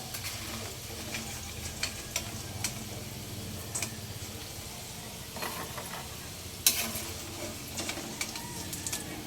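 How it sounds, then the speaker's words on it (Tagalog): French fries frying in hot oil, a steady crackling sizzle with scattered pops and the clink of a utensil moving them, one sharp louder tick near the end. "Ito yung french fries na niluluto ko"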